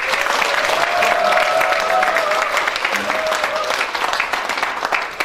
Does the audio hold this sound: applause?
yes